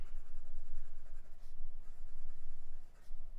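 Fountain pen inked with Monteverde USA Ocean Noir scratching across Oxford Optik paper, close and rhythmic strokes with brief pauses, no talking.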